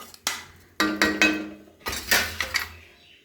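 A spoon scrapes and knocks against a pan while poha tinted with turmeric is stirred, several distinct clanks and scrapes in uneven bursts with short pauses between.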